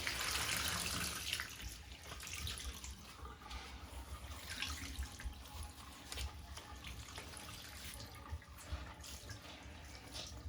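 Water is squeezed out of laundry by a hand-crank clothes wringer, giving a faint, steady, continuous splashing and trickling wash throughout.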